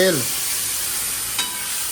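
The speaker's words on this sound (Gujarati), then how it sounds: "તેલ નાખીને પછી ફર્સ્ટ ક્લાસ વઘાર મારી દીધો." Hot oil crackles and sizzles as a tempering of spices hits it for Gujarati dahi tikhari, giving a loud, close, continuous frying hiss, with a brief voice at the very start.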